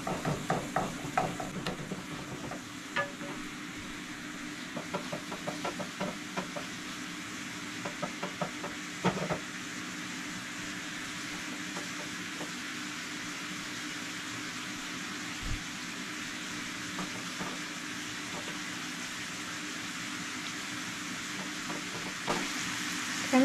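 Ground elk meat fries in a pan toward a crisp brown, a steady low sizzle running throughout with occasional scrapes and clicks of stirring, moderately near and without talk.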